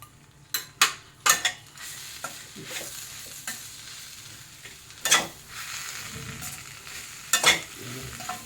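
A spoon stirs sweet mawa samosa stuffing with cardamom powder, dry fruits and raisins in a pan, giving irregular scraping clicks and soft sizzling, fairly close, with no talking.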